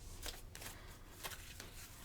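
Tarot cards being shuffled by hand: a run of soft, papery riffling bursts repeating at an uneven pace, close and fairly quiet, with no voices.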